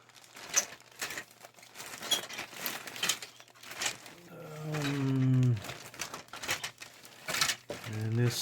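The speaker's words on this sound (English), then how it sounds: "First thing you notice is there's a big plastic bag on top." A big plastic bag holding the sprues of a Revell 1/48 F-4J Phantom II model kit crinkles and rustles in repeated bursts up close, with a voice talking in between.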